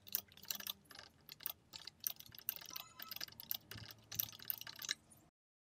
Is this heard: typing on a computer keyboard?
yes